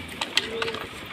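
Napta pigeons, a breeding pair, coo softly at close range in a few short, low calls over faint background noise.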